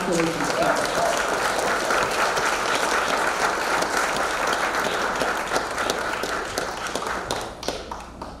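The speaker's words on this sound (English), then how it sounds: "Let's just applaud him." A room full of people applauds at an awards ceremony with steady, dense clapping that fades slightly toward the end. Voices can be heard over the applause.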